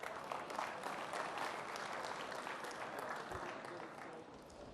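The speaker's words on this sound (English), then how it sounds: "Give yourself a round of applause" A seated audience at a leadership conference breaks into a full round of applause, loud and dense at first and then slowly thinning toward the end, with no voices over it.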